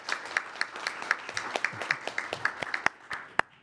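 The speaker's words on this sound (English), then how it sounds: "let's give him a round of applause" Sparse, distinct handclaps from a small group at a TriMet board of directors meeting in a quiet room, about a dozen uneven claps at a moderate level, gently rising and then trailing off.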